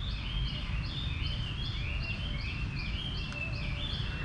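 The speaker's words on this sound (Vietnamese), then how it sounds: "Các bạn có nghe thấy tiếng chim hót không ạ? Đấy là các con chim đang thi hót với nhau đấy ạ." Songbirds sing against each other in a park in Lao Cai, repeated high chirping phrases in a steady pattern over a broad hiss of background noise, moderately close, with no voices.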